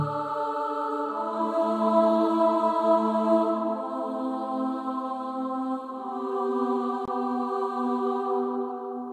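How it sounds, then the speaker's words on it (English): Synthesized choir pad layered for game music holds sustained, steady chords with slow harmonic shifts, played alone at a consistent level. "So I added a choir."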